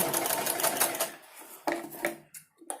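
Sewing machine stitching a blouse, a loud close burst of fast stitching that slows and stops, followed by a few short clicks and rattles of the machine.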